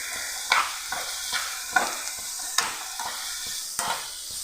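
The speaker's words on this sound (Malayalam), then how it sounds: "ഇനി ഇതിലേക്ക് നമ്മൾ ക്യാരറ്റ്, ഇതിലേക്ക് ഒരു അല്പം ഉപ്പും കൂടെ ചേർത്ത് ഫ്ലെയിം ഒന്ന് കൂട്ടി വെച്ച് നല്ല പോലെ ഒന്ന് വഴറ്റിയെടുക്കാം." Carrot and onion sauté in a hot pan with a little salt over raised flame, a soft steady sizzle broken by periodic stirring scrapes and clatters about every second, close and alone.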